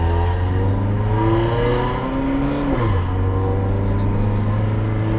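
A car engine with an original HKS exhaust revs close by, a steady deep drone that rises and dips in pitch once before settling back to a constant hum, with faint voices in the background.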